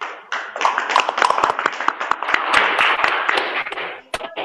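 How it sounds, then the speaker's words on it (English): Seminar participants applaud the speakers at the close of an international seminar, a burst of many hands clapping with sharp individual claps that thins out and stops near the end. "Please give applause for the all speaker for all of you all."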